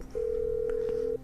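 A steady electronic phone tone in GTA 5 holds for about a second at a fixed pitch, clear and unbroken, with faint background game sound and no talk.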